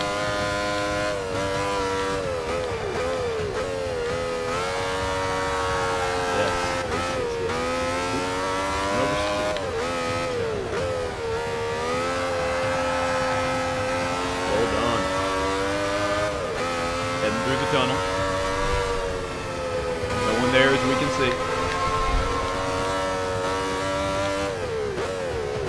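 A 1970s Grand Prix race car in Forza, its engine droning loudly and continuously with rising and falling pitch through gear changes, racing near the Swiss Alpine Bridge.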